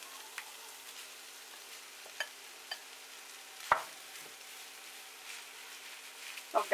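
Minced meat sizzles quietly in a frying pan while being stirred, with a soft steady fry broken by a few sharp scrapes and clicks of the utensil against the pan.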